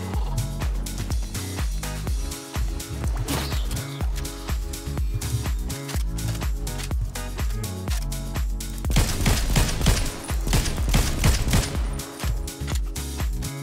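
Rapid gunfire in Fortnite, including sniper shots, rattles in dense repeated bursts for the whole stretch and grows heavier and louder toward the end.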